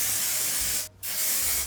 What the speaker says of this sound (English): So I'm going to go ahead and just spray this down so it stays where I want it to stay,